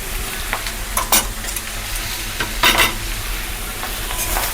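Mushrooms sizzle and fry steadily in a pan with chili powder and salt, while a utensil scrapes and stirs through them in several short scuffs, close and continuous without any talk.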